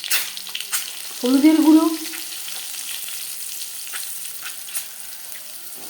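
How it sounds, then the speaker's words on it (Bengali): Duck eggs fry in hot oil with turmeric powder, a close, steady sizzle and crackle that swells briefly near the start and then settles. A voice speaks once over it. "তেল গরম করে নেওয়ার পর দিয়ে দেব ডিম"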